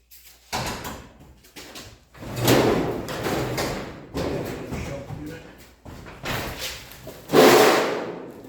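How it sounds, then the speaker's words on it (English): A wooden door in a workshop cluttered with pallets is pushed open in several bursts of scraping and knocking, ending in a heavy thud, close and loud. "Now we should be able to open this door and sweep out of here."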